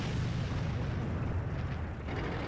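A World of Tanks match, a T110E5 taking an artillery shell in its weak spot: a low, continuous rumbling boom that fills the moment at moderate loudness, with no voices.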